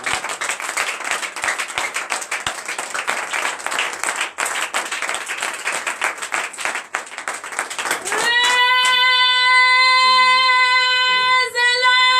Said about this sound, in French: manifestez votre joie à travers votre acclamation